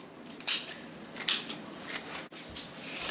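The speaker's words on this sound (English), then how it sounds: "And just get all those flowers cut off." Scissors snip goldenrod flower heads off their stems in a quick series of crisp, close cuts, each with a brief rustle of plant matter, and no one speaks.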